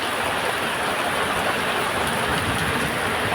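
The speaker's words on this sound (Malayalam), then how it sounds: "ഇവിടെ നല്ല മഴയാണ്." Heavy rain pours steadily as a dense, continuous broadband hiss, loud and close, with no voices over it.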